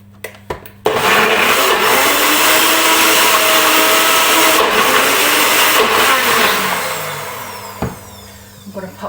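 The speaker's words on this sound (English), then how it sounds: "So I'm just going to blend that all together now" A blender whirs loudly and steadily, mixing a thick healthy low-fat chocolate brownie batter, starting abruptly after a few knocks and running continuously for several seconds before stopping, with a faint voice near the end.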